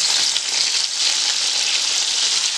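Brinjal pieces fry in a pan with turmeric and salt, giving a steady, dense sizzle with light scraping from stirring, close and continuous without talk.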